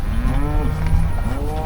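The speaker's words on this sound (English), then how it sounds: "And here's our key bulls in this pasture." Beef cattle in a pasture, bulls among them, low repeatedly and loudly at close range, their long mooing calls overlapping against outdoor background noise.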